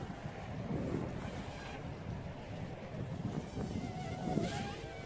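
Strong wind blowing outdoors during an Eachine QX90C micro drone flight, a continuous rushing roar and microphone buffeting with gusty swells, no talk.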